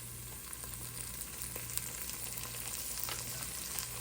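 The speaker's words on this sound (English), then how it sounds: "it looks like our onions are ready, we're going to add our garlic in" Garlic goes into onions frying in a pan before an asparagus soup, a steady close sizzle with faint stirring crackles and no talk.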